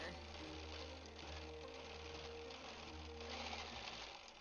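A Bernina 790 Pro sewing machine free motion quilting a stipple, running as a steady, continuous mechanical hum and rapid stitching drone, close up, with a voice talking over it.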